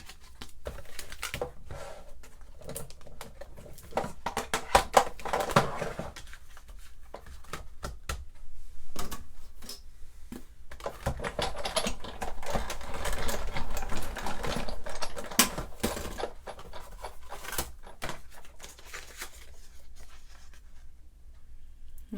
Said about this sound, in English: So I'm going to emboss these two Whisper White pieces.